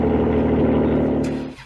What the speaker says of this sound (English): This is the sound of a Lamborghini.